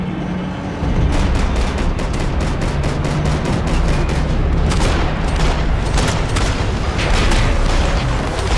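Dense gunfire in the video game Max Payne 3, a rapid volley of loud, close shots and bursts that starts after a brief lull and rattles on continuously with heavy booming impacts.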